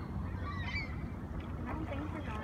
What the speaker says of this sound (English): Some Canadian geese.